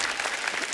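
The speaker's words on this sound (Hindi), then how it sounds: "एक बार जोरदार तालियां हो जाएं" A studio audience at a comedy talk show bursts into dense, steady clapping, a brief loud wash of applause with no speech over it.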